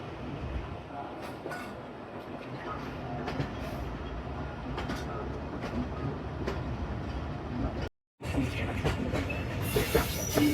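Chenab Express passenger train pulling out of Pakkowal station, heard from on board as a steady low rumble with faint rail clatter throughout, briefly cut off near the end, and no talking.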